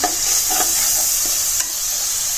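Garlic and ginger paste frying in hot oil gives a steady close sizzle with a few soft scrapes of stirring over about two seconds, no voices.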